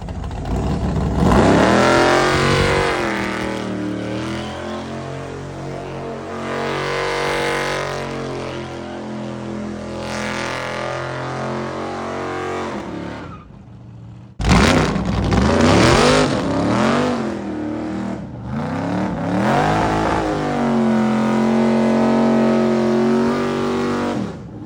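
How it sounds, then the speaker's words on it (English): Loud race car engine at a motorsport park during a test skid, revving hard and steadily for about fourteen seconds, cutting briefly, then roaring and revving again close by with no talk. "Test skid at Hebburn Motorsport Park"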